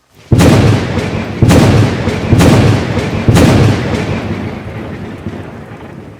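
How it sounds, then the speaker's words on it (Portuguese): Four sharp thunderclaps crack in quick succession during a storm, each rolling into a heavy, crackling rumble that slowly fades. "O trovão rugia e crepitava sem pausa enquanto relâmpagos vermelhos caíam, não um a um, mas em grupos."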